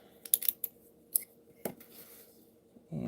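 Scissors trimming ribbon on a handmade Christmas card: a few quiet, sharp snips close by at a crafting table, followed by a soft rustle, with no talk.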